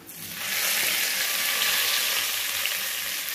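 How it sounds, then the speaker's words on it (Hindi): Hot tadka tempering poured into a pot of mixed moong and masoor dal gives a loud, steady, close sizzle that swells in quickly and keeps crackling evenly for a few seconds, with no talking. "तड़का रेडी हो गया, ये मैं दाल में डाल दूंगी।"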